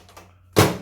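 A single short thunk of a small appliance door shutting, after a moment of quiet.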